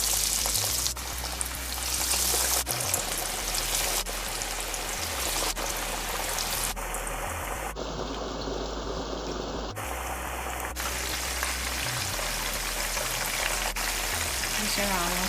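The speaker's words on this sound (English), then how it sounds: "Now I'm gonna start frying the chicken tenders." Steady broadband sizzle of chicken tenders frying in hot oil, continuous and close, with faint low hum underneath.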